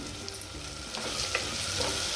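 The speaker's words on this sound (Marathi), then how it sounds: "तीन मिनटं परतून घेऊ कांदा टोमॅटो चांगला भाजला गेला" Steady sizzling and light stirring of onion and tomato sautéing in a pan, a continuous crackle with no voices.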